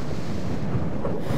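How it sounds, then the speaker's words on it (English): Steady, broadband wind roars continuously through a video game scene, high up in an exposed spot, with no other sounds breaking through. "It's so windy up here!"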